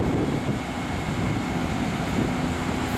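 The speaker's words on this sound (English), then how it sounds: "Fireworks with the diesel train going right by here." A heavy, rumbling diesel train passing nearby at a train station, a continuous broad roar with wind buffeting the microphone, with fireworks going off.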